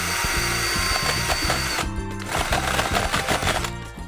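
Power drill boring a hole into the frame of an IKEA bed, a steady loud whir with rhythmic pulsing and short grinding bursts, continuous close up without speech.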